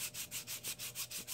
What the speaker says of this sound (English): I sand that a good bit here, and we're not done sanding